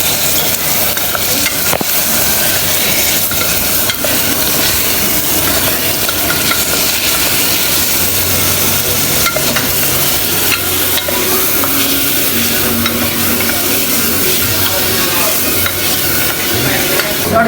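Food frying in a home pan, salt already added, is stirred with a steady scraping and sizzling that runs loud and continuous throughout, with no talking over it.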